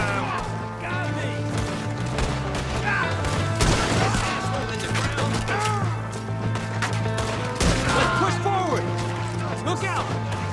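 A Red Dead Redemption 2 shootout with loud, dense gunfire and crashes throughout, mixed with music and shouting voices.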